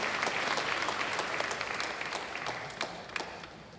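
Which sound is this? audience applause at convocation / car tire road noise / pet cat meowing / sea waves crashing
audience applause at convocation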